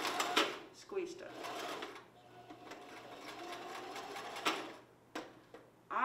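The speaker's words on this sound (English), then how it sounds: "you're going to forward stitch, back stitch, forward stitch" A sewing machine stitches elastic onto a ribbon skirt in several short bursts of close, whirring stitching, with pauses and handling clatter between runs.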